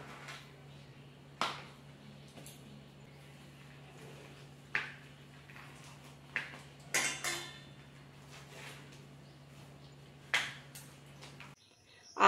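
Ripe palm fruit being cracked open, several sharp, hard knocks spaced a few seconds apart over a low steady hum, close by, ending with a louder clatter.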